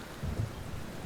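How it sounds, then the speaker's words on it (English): Faint, steady rain hiss with a low rumble of thunder rolling underneath in the SNES video game Clock Tower, quiet and distant throughout. "Of course it's freaking raining outside and there's thunder stuff."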